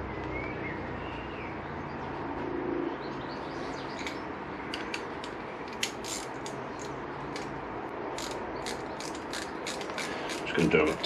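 A ratchet snugs the valve cover bolts on a 1994 Triumph Sprint 900, with 8 mm bolts done up to 9 Nm. Quick bursts of sharp clicking stand out over quiet background, and a voice talks between the bursts.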